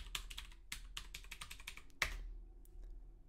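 Quiet computer keyboard typing: quick clusters of light key clicks with short pauses and one sharper keystroke midway, heard alone at close range.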